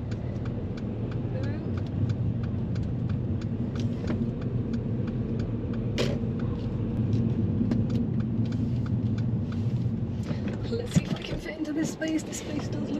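Traffic circulating around the Magic Roundabout in Swindon, a steady rumble of car engines and tyres close by, with a small red car among them, heard under continuous talking inside a car.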